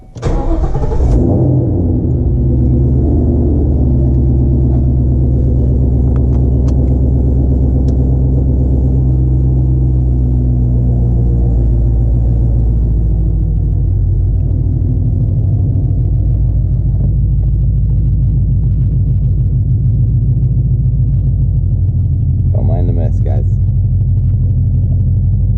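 Ford Mustang S197 riding on cut springs drives along with a steady, loud low engine rumble and road noise throughout, a brief burst of rattling near the end.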